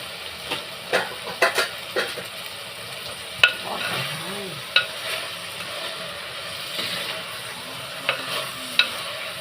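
A spatula stirs and scrapes vegetables, including tomato and green mango, around a frying pan over steady sizzling, with sharp clicks and knocks at irregular intervals and no talking.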